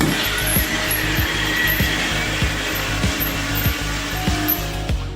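A cheap Walmart lithium-ion cordless screwdriver running against a screw that won't come out, its motor whirring steadily with a rapid, regular clicking ratchet, loud and close throughout.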